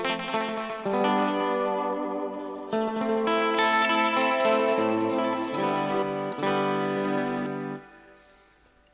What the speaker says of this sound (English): as you can hear, there is no preamp for the overall tone, but actually the delay sound is pretty authentic and it's consistent